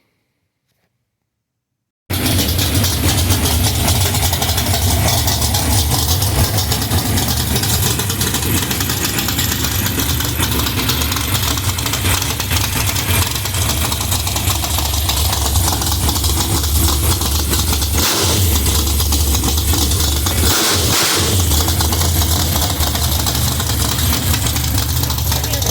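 After a moment of silence, a car engine starts and settles into a steady, loud idle with a low rumbling chug, running continuously.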